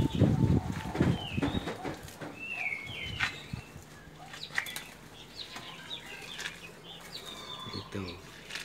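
A zebra dove and a red leopard-colored spotted dove flap their wings in quick, soft bursts, with faint chirps and shuffling around them, mostly quiet and close.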